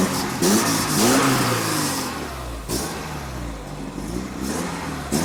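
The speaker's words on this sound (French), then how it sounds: "au niveau de l'échappement, sauf erreur, on doit avoir un petit bruit assez sympathique" Alfa Romeo 33 1.7 boxer engine revving through its exhaust, a loud close burst of throttle that rises, drops back briefly and climbs again over about five seconds, with no talk.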